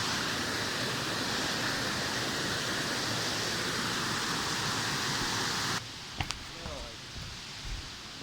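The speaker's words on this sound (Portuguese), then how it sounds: "Como podem ver, estamos a subir aqui na cachoeira." Rushing water at the Chimoio waterfall, a steady loud broadband roar for most of the clip that drops away abruptly near the end, where a few faint knocks and distant voices remain.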